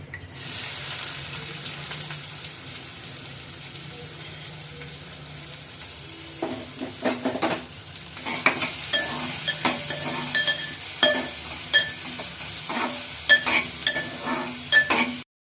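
Onions frying in a pan for mushroom gravy, a steady close sizzle with intermittent scraping and clacking strokes of stirring growing more frequent in the second half.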